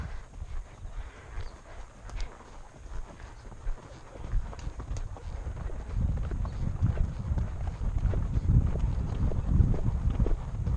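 Hooves of a horse ridden at a canter on an afternoon ride thud in a rolling rhythm, quieter at first and then growing louder and denser over a low rumble of wind or movement.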